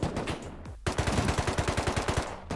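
Automatic MP5 gunfire in the video game Rust, close and loud: a short burst, a brief pause, then a long steady stream of rapid regular shots, with a final shot near the end.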